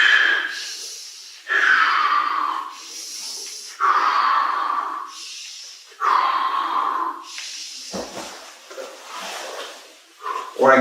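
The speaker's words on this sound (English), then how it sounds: "I will make it audible so you can hear how I breathe." Sharp rhythmic breaths during push-ups, loud and close, each exhale a forceful hissing puff in a regular pattern of about five, followed by shorter softer breaths at the end.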